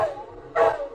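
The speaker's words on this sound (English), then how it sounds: "The dog is barking." A dog barks a few times in a radio stage play aboard a ship, fairly close and moderately loud, each yip-like bark short and separated by brief gaps.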